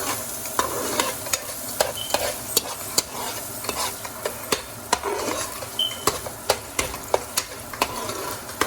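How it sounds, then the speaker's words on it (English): A spoon stirs vegetables and fennel seeds in a hot pan, with steady sizzling underneath and regular scraping clicks against the pan, close and fairly quiet, with no talk. "Stir the vegetables about 1 to 2 minutes."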